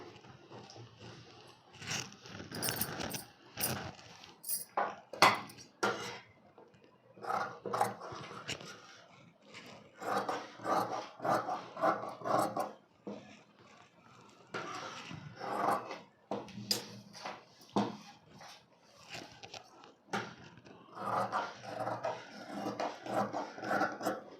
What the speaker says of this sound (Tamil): இப்போ பேக் பீஸை கட் பண்ணிக்கிறேன்